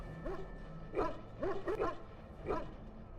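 Hunting hounds in the video game Dragon Age bark and yip in short bursts, about four sharp calls spread over a few seconds at moderate loudness, with no talk.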